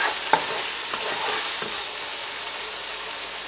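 Garlic is fried over a high flame for garlic chicken, giving a steady, dense sizzle with a few stirring scrapes and clinks near the start.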